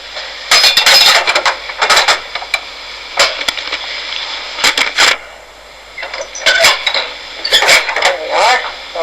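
A large old key turns in the lock of a big church door, heard from the porch as a run of loud, close metallic clanks, scrapes and rattles in irregular bursts with short pauses between them.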